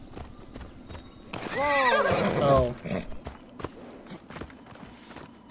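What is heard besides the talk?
horse galloping in video game Assassin's Creed Odyssey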